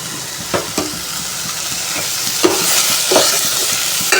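Food sautés in a hot pan with a steady broadband sizzle, broken by a few sharp stirring scrapes and clinks; no one speaks.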